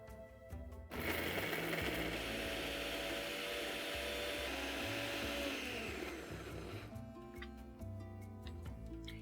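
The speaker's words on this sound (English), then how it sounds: "Let's grind this into an absolutely fine and smooth paste because it's an absolute fine and smooth kebab." Motorized grinder whirring steadily as it blends goat meat into a fine, smooth kebab paste, starting abruptly after a second, holding a loud even drone for about five seconds, then stopping, with clatter around it.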